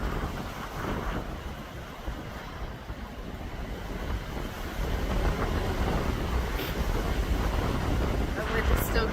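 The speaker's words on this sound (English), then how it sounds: "The wind is still going." Strong wind buffets the microphone in a constant, loud, rumbling roar that swells stronger in the second half, with someone talking faintly beneath it.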